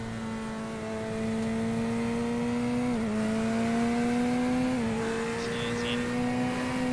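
GT3 race cars in iRacing at the Catalunya circuit drone with a steady engine note, the pitch dipping twice briefly as gears shift, loud and continuous with no talk.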